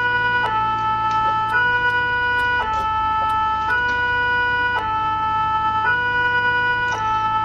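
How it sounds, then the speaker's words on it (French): A fire engine siren from the video game Farming Simulator 2017 wails steadily, switching back and forth between two tones about once a second, fairly loud and uninterrupted. "on peut couper les sirènes."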